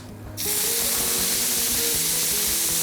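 Chilies and chopped tomatoes hit a hot pan already holding bay leaves, cinnamon, cardamom and black peppercorns, letting out a sudden loud, steady sizzle that stays close and continuous.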